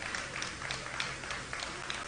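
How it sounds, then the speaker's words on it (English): A crowd at an outdoor street political rally applauds the party leadership, steady dense clapping heard from a distance, fairly faint and sustained throughout. "applause."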